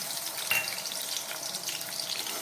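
Shrimp frying in a generous amount of hot oil, a steady soft sizzle with no voices and one brief sharp crackle near the start.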